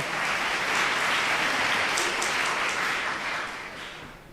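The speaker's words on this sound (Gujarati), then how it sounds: "એક તાળીઓ દો, એક તાળીઓ દો." An audience at a Swaminarayan religious discourse breaks into dense, loud applause that holds steady, then begins fading toward the end.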